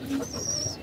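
Domestic pigeons in their coop give a single short, soft, low coo. It is faint and brief over a quiet background.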